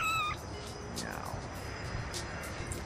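A single short meow from a Siberian tiger kitten in the video game No More Heroes sounds at moderate volume, amid soft game ambience and someone talking.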